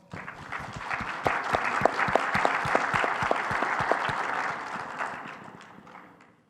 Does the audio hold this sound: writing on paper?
no